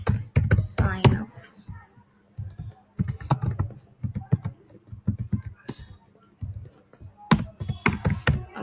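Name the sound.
typing on a computer keyboard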